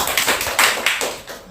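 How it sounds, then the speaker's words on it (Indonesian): Applause for a student named Leti during a school group counseling session: a short run of quick, sharp hand claps from a small group, close and fairly loud, fading toward the end. "Oke, tepuk tangan untuk Leti."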